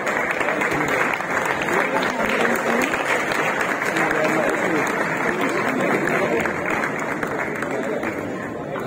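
Sustained, loud audience applause fills a hall during a classical music festival at Alhamra Hall in Lahore as a lifetime achievement award is presented, a dense steady wash of clapping with crowd noise and no clear speech.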